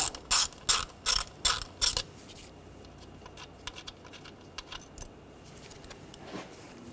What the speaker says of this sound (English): Using a 8mm socket, take this bolt out.